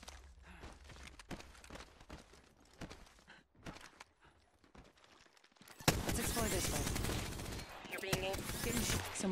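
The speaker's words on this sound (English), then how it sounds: "Someone's got a shot on me, pretty sure. Taking fire! I'm taking fire." Gunfire in the shooter Apex Legends Arenas: scattered shots and short bursts under quiet game ambience, then a sudden loud, dense barrage of rapid fire and impacts that continues to the end, with a player talking.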